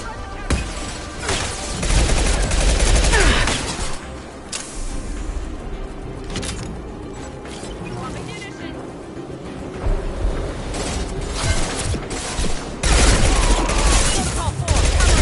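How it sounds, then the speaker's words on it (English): Rapid gunfire in Mass Effect 2 combat: dense bursts of shots and booming impacts roar almost nonstop, loud and close, with voices speaking over the battle. "Firing a high-impact shot."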